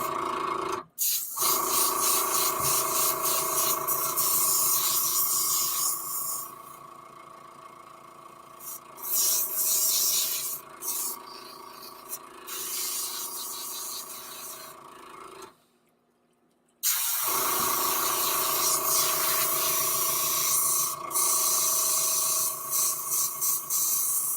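An airbrush used for painting ultralight fishing baits is rinsed out with water, giving a loud, steady spraying hiss that goes on for long stretches, broken by a few brief pauses and one short silence.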